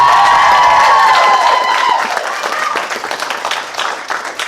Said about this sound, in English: Give a round of applause for Alayna, ladies and gentlemen.